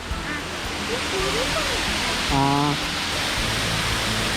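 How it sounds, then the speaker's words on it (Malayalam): Steady broadband rush of water from the small Arikkal waterfall, close and continuous throughout, with a short spoken syllable and some brief voices heard over it. "ചെറിയൊരു വെള്ളച്ചാട്ടമാണ്"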